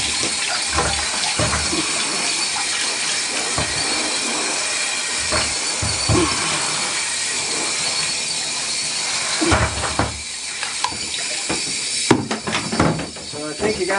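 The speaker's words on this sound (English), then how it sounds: "So you see that I kind of continually rinse this so I don't have any of that Krud Kutter" Water streams continuously from a tap, rinsing Krud Kutter cleaner off the painted body of a vintage Singer 403A sewing machine, a loud steady splashing rush that breaks up near the end as the flow shifts.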